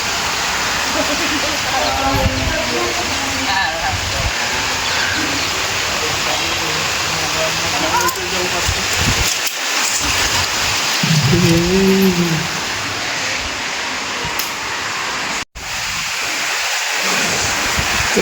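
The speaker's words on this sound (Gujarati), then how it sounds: "ફૂલ વરસાદ ચાલુ થઈ ગયો." Heavy rain falls over farmland as a steady, loud wash of broadband hiss, with people talking on and off above it and a brief dropout near the end.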